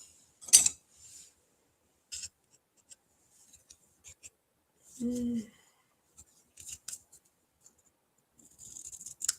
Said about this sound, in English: I'm going to take my scissors and do the angle.